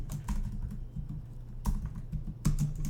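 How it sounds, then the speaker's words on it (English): Keys clatter on a computer keyboard in short bursts of typing, close and fairly quiet, with pauses between the clusters of taps. "if I can type here"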